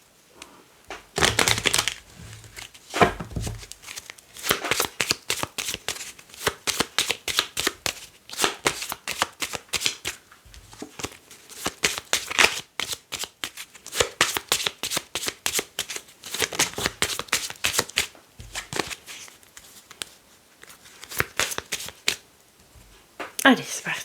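A 32-card deck is shuffled in rapid riffling bursts of crisp card flutter, close and loud, repeating steadily throughout with brief pauses between shuffles.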